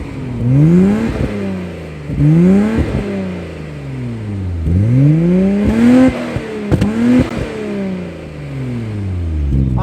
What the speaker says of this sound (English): Now at the moment I have a HKS Super Dragger exhaust.